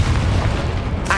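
A Confringo blasting spell explodes in the video game Hogwarts Legacy, a single loud, deep boom with a rumbling low-end burst, followed by a brief bright crackle at the end.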